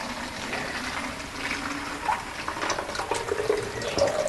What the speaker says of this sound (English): So let's get water from the tap.